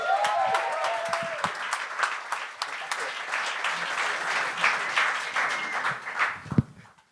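A studio audience at a French-language talent game show gives sustained, fairly loud applause mixed with cheering and voices, tapering off into quiet after about seven seconds.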